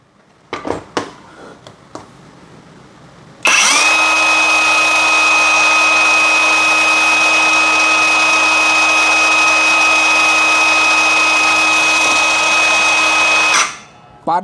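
A cordless brushless circular saw spins up and runs free in its low mode for about ten seconds, a loud, steady high whine with a strong tonal hum, then winds down. A few light knocks come before it starts.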